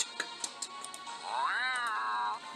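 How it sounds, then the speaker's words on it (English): A cat meows once in a long drawn-out, wavering call, close and clear after a few faint soft taps. "That was a cat."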